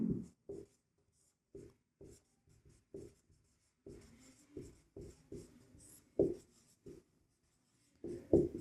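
Pen writing out a Class 10 maths solution on quadratic equations: short scratchy strokes in irregular bursts and pauses, close and fairly quiet, with no talking.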